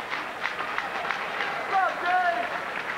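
New Trier fans cheer from the stands at a boys swimming state final, a steady roar of crowd noise with clapping running throughout and swelling louder near the end.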